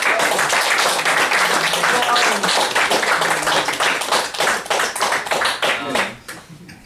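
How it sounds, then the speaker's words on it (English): An audience applauds a poet, close, crisp handclaps forming a lively patter that holds steady, then thins out into scattered claps and fades near the end. "Round of applause to Shane Kaahu."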